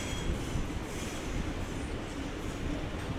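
A Sydney Trains Waratah passenger train rolls through Central Station with a continuous loud rumble of wheels on rails and faint squeals, steady throughout.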